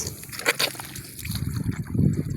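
Irrigation water flows into a rice paddy with soft sloshing and trickling, steady and close, swelling louder toward the end, with no voices.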